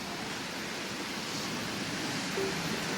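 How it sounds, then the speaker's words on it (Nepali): A cold winter river rushes near a waterfall, a loud, unbroken roar of flowing water with no voices. "खोलाको आवाज"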